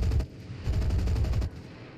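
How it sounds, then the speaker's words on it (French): Rapid automatic gunfire in the WWII shooter game Enlisted, a dense burst of shots, a brief gap, then another sustained volley that cuts off, loud and close with no talk. "J'ai tiré tout ce que je pouvais"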